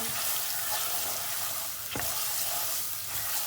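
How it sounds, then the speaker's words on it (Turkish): Tomato paste frying in a pan with roasted flour for ezogelin soup, a steady close hiss and sizzle with a brief scrape of stirring midway. "Bir yemek kaşığı domates salçası dökeceğiz. Salçamızı da iyi kavuracağız."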